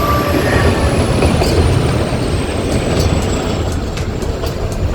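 The Nilgiri toy train runs through a large tunnel on the way to Ooty, making a loud, constant rolling rumble with a thin high wheel squeal and faint rhythmic clicks, and no voices.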